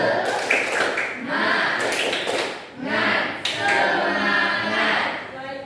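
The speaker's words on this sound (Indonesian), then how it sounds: "Tepuk-tepuk semangat." A classroom of students claps a rhythmic chant led by their teacher, with sharp repeated claps in a steady pattern mixed with voices calling along throughout.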